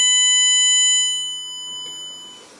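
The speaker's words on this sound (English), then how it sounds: "Let's have 1000 hertz. Sounds nice and clear." A steady 1000 Hz test tone plays through a repaired high-frequency dynamic tweeter, clear and constant, with harmonic lines above it, holding at full level for about a second before slowly fading out.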